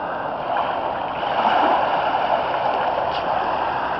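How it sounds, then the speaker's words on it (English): Water from a flooded river rushes in a steady, broad wash, close and fairly loud, with no voices over it. "River's flooded."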